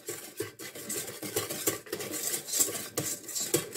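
Flour being stirred into a brioche pre-ferment in a bowl, with irregular scraping and clinking of a utensil against the bowl, close and moderately loud, without speech.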